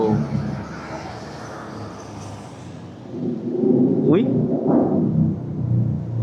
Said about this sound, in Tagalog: Rinig na rinig mo talaga mga paps yung tunog ng sasakyan.